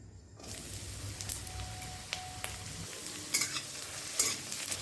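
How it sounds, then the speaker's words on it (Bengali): Chopped carrot hits hot oil in a wok and sizzles steadily, with a few scraping stirs and soft clinks as it fries. "উনানে কড়াই বসিয়ে দিয়েছি এবার দিয়ে দেবো তেল এবার আমি দিয়ে দিচ্ছি গাজর কুচি"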